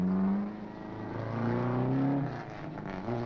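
Car engine revving as it accelerates, a fairly loud rising and falling motor drone with a steady pitch climb, no voices over it.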